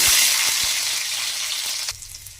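Black cumin and whole garlic cloves frying in oil in a pan, a close, bright, steady sizzle with a few soft stirring knocks.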